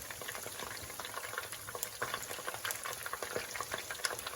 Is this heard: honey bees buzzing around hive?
no